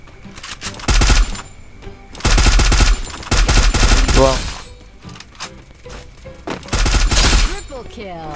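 FAMAS rifle fire from the Free Fire video game comes in several loud bursts of rapid automatic shots, with short gaps between them and near the end.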